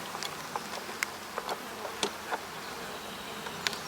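Honeybees buzzing around an open hive, a dense, steady hum close by, with scattered light taps and clicks from handling the hive boxes.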